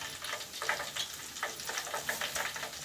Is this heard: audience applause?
no